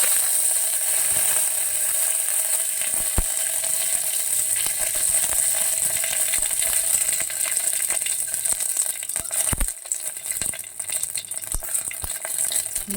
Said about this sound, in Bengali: তারপর এতে তেজপাতা ফোড়ন